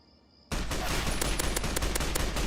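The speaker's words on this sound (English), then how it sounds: "Let's get that marksman carbine out and start shooting." After a brief quiet hum, a marksman carbine in Fallout 3 opens up with rapid, loud shots, a quick series of sharp cracks close by over a dense battle bed.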